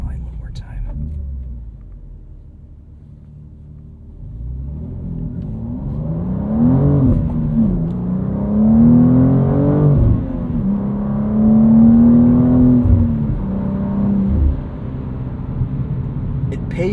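A 2025 BMW M2 with a 473 hp six-speed manual launching hard off the line, engine rumble climbing through revs in a rising, then sustained roar after a quiet start.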